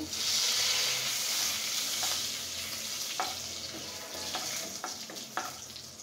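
Cloves, cinnamon, cardamom and a bay leaf sizzle in hot oil, a dense steady crackle that swells at first and eases a little, with scattered light taps of a spoon in the pan and no talking.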